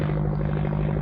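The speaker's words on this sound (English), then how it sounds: "those planes always be coming over here, ruining my shots" A Tiger Moth biplane passes overhead on a flight-experience outing, its propeller engine a steady droning buzz with a strong low hum, constant and moderately loud across the moment, no voices.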